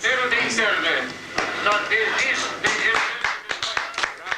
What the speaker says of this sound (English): the message airs to a ripple of applause